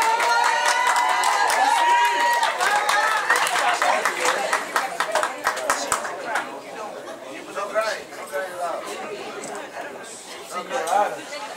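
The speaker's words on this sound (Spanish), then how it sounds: "Voy a pedir un aplauso también acá para la señorita" Audience applause for a guest at a Caporales Centralistas USA fraternity event, dense clapping mixed with cheers and crowd chatter, strongest early and thinning into scattered claps as voices carry on.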